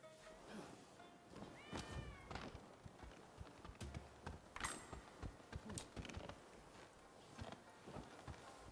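A cat meows in the video game Rise of the Ronin, short mews mixed with horse hoof clip-clops and footsteps in the game world, with quiet talk over the top.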